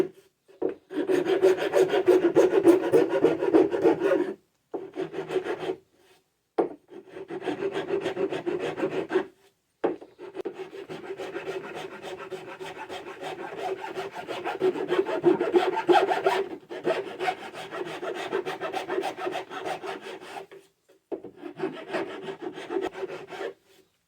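A hobby rasp files wood in repeated rasping strokes, loud and close, in bursts separated by short pauses.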